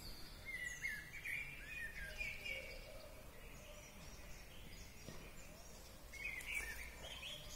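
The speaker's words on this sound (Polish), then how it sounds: "Kos pięknie śpiewa." A common blackbird sings outdoors in fluting, warbling phrases, a couple of short bursts at the start and another near the end, moderately distant over faint background noise.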